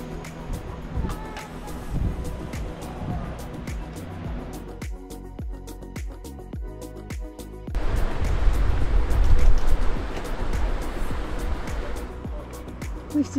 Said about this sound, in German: Richtig geile Wellen heute.